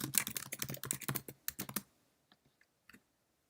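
Rapid typing on a computer keyboard as a label is entered, with a quick burst of close, crisp key clicks and then a few sparse, isolated taps.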